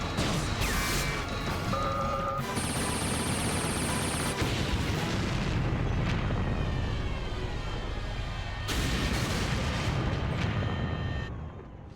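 Loud sci-fi spaceship cannon blasts and roaring engine noise fill the scene, with sharp bursts, a high whine, and a rumbling low end throughout.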